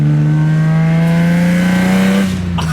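A BMW E30 fitted with a swapped S54 engine revs on a dyno, giving a loud, close, sustained howl whose pitch climbs steadily before it cuts off.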